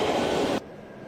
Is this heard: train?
yes